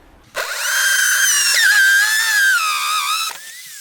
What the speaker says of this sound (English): this circular saw bit on the end of my drill